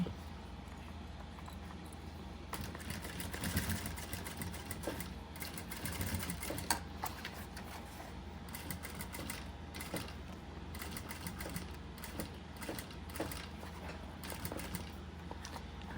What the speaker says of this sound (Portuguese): vai costurar um pouquinho pra dentro da onde foi a costura que segurou o nosso vivo